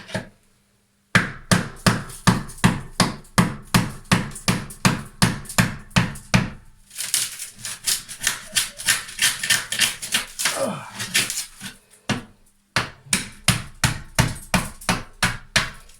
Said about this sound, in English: let's try and break off some tile.